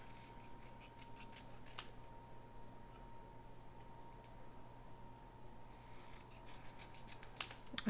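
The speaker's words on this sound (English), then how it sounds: "the next step is to take these paper snips" Paper snips cut paper while a penguin place card is made, with a few crisp close snips spread across a quiet background and a small cluster near the end.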